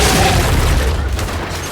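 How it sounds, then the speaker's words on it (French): A loud, low boom from an explosion in the video game Gears of War 5, rumbling heavily for nearly two seconds and fading slowly, with faint game voices in the mix. "Attention à l'explosion."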